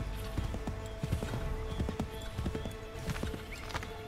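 Repeated horse hoof clops in an uneven trotting rhythm in Assassin's Creed III Remastered, fairly close, over a steady low hum with faint tonal music.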